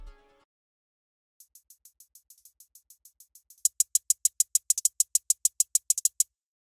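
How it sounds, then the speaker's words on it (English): Crisp electronic hi-hat ticks in a steady rhythm made in FL Studio, soft at first, then a brighter, louder pattern with quick doubled hits near the end. "So next is the hi-hats."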